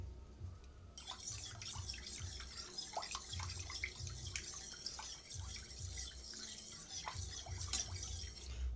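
Water being poured into a pot of cow milk in a home kitchen, heard as a steady trickling and dripping pour lasting several seconds, fairly close with no talking.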